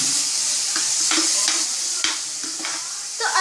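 Paneer fries in a pan until crispy brown, a loud continuous sizzle and hiss with occasional stirring scrapes and a sharp clack near the middle; no voices.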